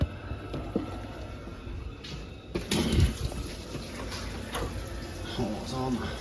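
Hot water runs from a tap during a home boiler check, a steady hiss and splash with a louder surge partway through, mixed with handling noises close by.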